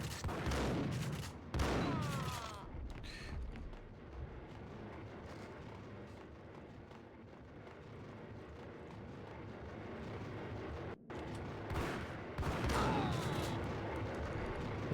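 An enemy in Max Payne fires at the player, with loud bursts of gunshots at the start and again near the end and a quieter rumbling stretch between them.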